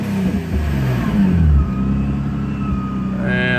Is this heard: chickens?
no